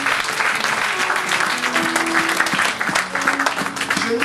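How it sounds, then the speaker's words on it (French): A church congregation applauds and cheers to acclaim the Lord during a French-language sermon, a dense, steady wash of many hands clapping close and loud, with scattered voices rising through it and sustained tones lingering underneath. "Est-ce qu'on peut acclamer le Seigneur?"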